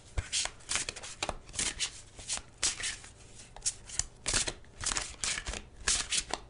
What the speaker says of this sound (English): I already shuffled these a lot